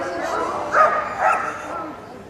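Sweep, a six-year-old working sheepdog, barks at the Crufts 2017 agility championship. Two short, sharp barks stand out over steady arena crowd noise and commentary.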